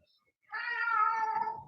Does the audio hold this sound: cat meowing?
yes